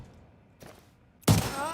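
Pistol shots ring out in The Division 2: one faint, muffled shot comes first, then a single loud, sharp blast followed by a ringing tail.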